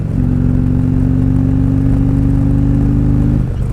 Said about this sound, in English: So we're in 5th gear, hit the throttle.